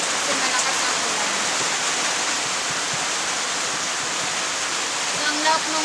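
A downpour of heavy rain fills the air with a steady, close wash of hissing noise, constant in level, with a faint murmur of voices near the end.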